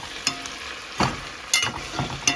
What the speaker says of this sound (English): now I'm gonna so it's frying down nicely with the seasoning